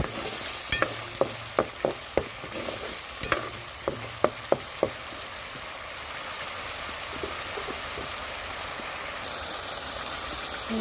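Ground spices such as chili powder frying in an oil-filled pan for a taro and fish dish, a soft continuous sizzle under a series of sharp spoon clicks and scrapes against the pan, then quieter steady frying.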